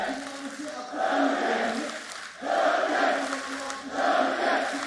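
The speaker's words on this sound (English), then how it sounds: "Crowd erupts as support comes through for Derke." Esports arena crowd at a Valorant match between DRX and Fnatic at VCT Champions 2022, erupting in loud, full-throated cheers that swell in three waves, each dipping briefly before the next roar.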